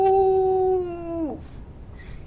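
A person imitates a wolf howl with one long, loud, sustained voiced howl that holds steady and then drops off sharply, followed by quieter background noise.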